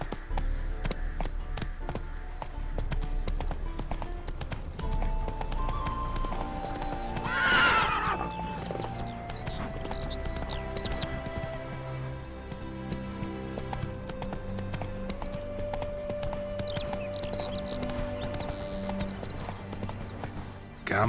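Roach, a horse in The Witcher 3: Wild Hunt, gallops with steady, rapid clip-clop hoofbeats and lets out a whinny partway through, under game music and occasional voices.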